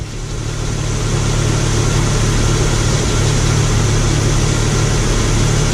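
A Jeep engine idles steadily with a constant low droning hum and even mechanical rumble, running close by and alone without any voices or changes in speed.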